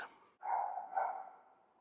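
A dog in an indoor hallway gives a short yip, then a single drawn-out bark or howl that holds steady for over a second before fading, heard alone and moderately close.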